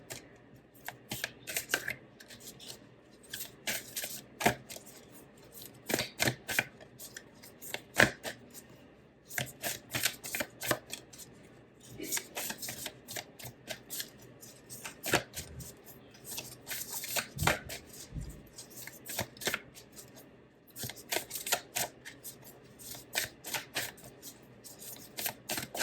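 Tarot cards being shuffled and drawn by hand, a steady run of close, crisp riffling and flicking bursts with short pauses between them, and no talk.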